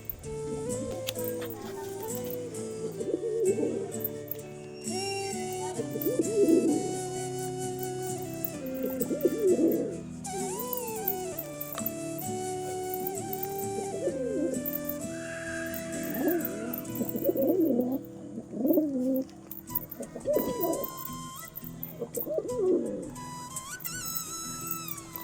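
Pigeons, including a Punjabi knot pigeon, coo in repeated low warbling phrases close by, with overlapping calls from several birds throughout a long stretch and faint background noise.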